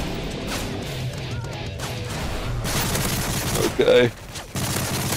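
Bursts of rapid gunfire and impacts from Modern Warfare 3 Survival Mode on the Village map, heard as a dense volley with a sharp loud crash near the end, while a player speaks briefly over the action.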